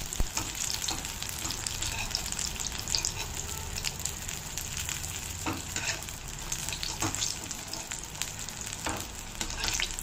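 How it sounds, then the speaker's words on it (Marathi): Thin slices of ridge gourd fry in a pan over a low gas flame, giving a steady close sizzle with soft crackles and occasional stirring scrapes throughout, with no voices. "गॅस थोडा स्लो करून करपत आहेत। घोसाळ्याचे पातळ कापल्यामुळे त्याला जास्त काही शिजायला वेळ लागत नाही।"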